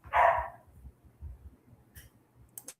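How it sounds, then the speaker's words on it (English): A dog barks once loudly in the background, followed by softer yips and muffled low thumps, with a faint high chirp near the end. "Is that your dog barking in the background there?"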